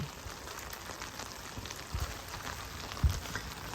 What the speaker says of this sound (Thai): ฝนตกนะคะ น่าจะทั้งวัน